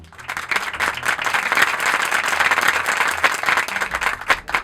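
A studio audience at a quiz game show breaks into loud, sustained applause, dense clapping that swells quickly and holds steady before thinning slightly at the end.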